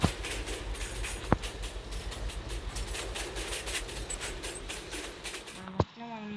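A train runs in the Railway Simulator India video game with a steady rolling rumble and rhythmic clickety-clack over the rails. Two sharp clanks stand out against the continuous noise before it cuts off abruptly near the end.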